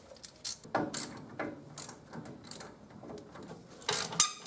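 A ratchet clicks in short, quick bursts while loosening a shock absorber nut on a 1973-1979 Ford F-150, with faint mechanical rattles between strokes and no talk.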